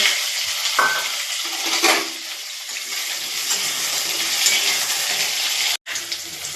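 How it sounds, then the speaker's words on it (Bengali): Sliced pointed gourd sizzles in hot oil in a wok, a loud, steady frying hiss with stirring scrapes and a brief break near the end. "এবার আমি এখানে দিয়ে দেব কেটে রাখা পটলগুলো।"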